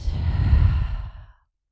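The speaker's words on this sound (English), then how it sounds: "Take one more full breath in and a full breath out." A slow, deep breath drawn in and released in one long exhale during a yoga cool-down, close and soft, fading out after about a second and a half with no talking.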